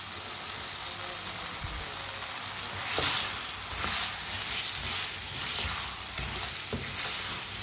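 Boiled potatoes are stirred and mixed in a frying pan with a steady hiss of sizzling oil, punctuated by occasional scrapes and taps of a spoon against the pan, close and alone.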